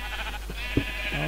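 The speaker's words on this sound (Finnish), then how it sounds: "Lampaita alla, mennä sen kipahtaa lammastarhaa." A sheep in the video game Minecraft gives one short bleat at the end, following a soft thump, over a steady background hum with no talking.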